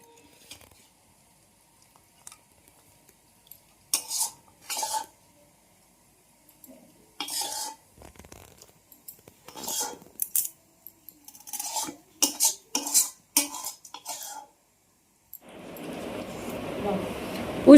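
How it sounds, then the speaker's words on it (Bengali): Fish curry is served into a bowl: metal utensils clink and scrape against dishes in short, irregular bursts separated by quiet gaps, ending with a soft frying sizzle. "মাছের ঝাল এবার আমি পাত্রের মধ্যে একটা তুলে নেব।"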